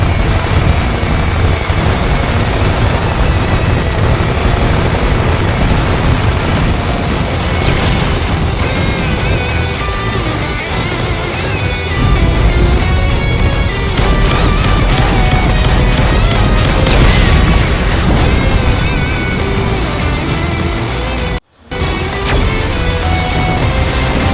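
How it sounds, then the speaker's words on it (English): A long, loud wash of layered explosions and gunfire from the shooting game Raiden V, booming continuously with music underneath, cutting out briefly near the end before resuming. "Enemy deactivated. Watch out for explosions."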